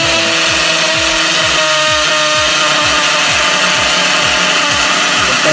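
A cordless 24 V drill bores into a cement house wall, a loud, close, steady motor whine with a rapid repeating rattle as the bit grinds into the masonry, running continuously without speech.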